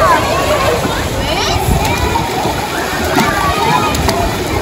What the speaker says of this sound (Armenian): Ալիքները գալիս ու կարծես արհեստական ծովի տպավորություն է ստեղծվում